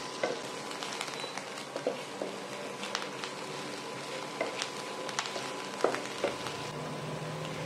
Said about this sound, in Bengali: এখন এই পেঁয়াজ বাটাটা কিছুক্ষণ ধরে হালকা বাদামি করে ভেজে নেব।